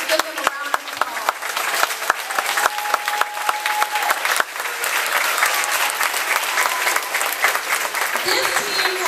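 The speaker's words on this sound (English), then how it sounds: "Let's give them a round of applause." Steady audience applause at a kindergarten graduation ceremony, dense clapping from a crowd filling the room with sharp individual claps standing out and faint voices beneath.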